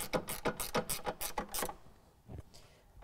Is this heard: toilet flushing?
no